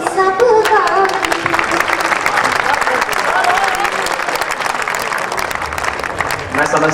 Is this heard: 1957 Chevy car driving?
no